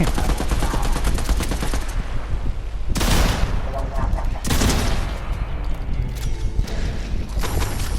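Rapid bursts of automatic gunfire from a Fortnite match, loud and dense, with sharper heavy volleys breaking through near the middle and again later.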